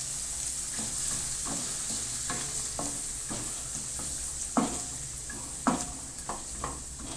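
Garlic and curry leaves sizzling in warm oil for a raw mango chutney, a continuous hiss with several sharp crackles and spatters toward the end, close by.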